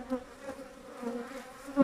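Honeybees buzzing around a hive during a colony split, a steady layered drone with a few louder passes of bees flying close, no voices.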